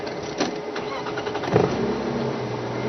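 A car engine cranks and catches, then settles into a steady idle hum close by, preceded by a brief mechanical whir.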